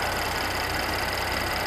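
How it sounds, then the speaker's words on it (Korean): A Mercedes-Benz C43 AMG 4MATIC sedan, W205 C-Class, idling with its engine bay open, a steady even hum with a faint rhythmic pulse, constant and close with no talk. "엔진 소리 일정합니다"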